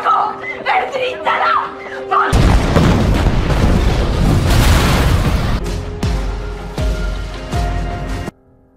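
A hideout blows up with hostages inside in a film scene: a sudden heavy blast erupts over brief music and rumbles on for several seconds, with several further dull thuds trailing off before an abrupt cut to near silence.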